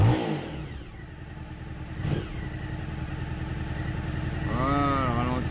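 A Suzuki SV1000 motorcycle engine idles with a steady, close, mid-pitched rumble and a slight rise partway through, while someone talks briefly over it at the start and end.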